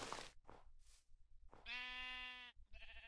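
Sheep bleating in a modded Minecraft game: a couple of loud, harmonic bleats, each lasting about a second, following some brief game noises and set close in the mix.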